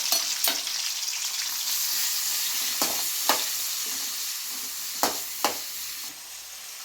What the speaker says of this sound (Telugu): కట్ చేసిన టమాటా ముక్కలు వేసుకుందాం వేయించుకుందాం